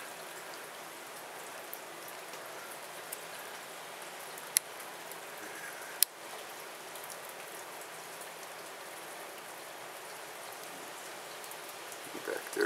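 Steady rain falls outdoors on a 44-degree December day in Des Moines, a soft continuous hiss with a few louder individual drops striking nearby surfaces.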